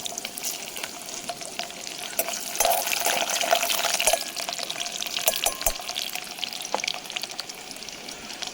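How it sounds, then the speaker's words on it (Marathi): Garlic fries in hot oil in a pan at an outdoor jungle cooking spot, giving a loud, steady sizzle with crackling pops that swells midway, with no talking. "तेल तापले सुसाडमध्ये लसूण टाकूया"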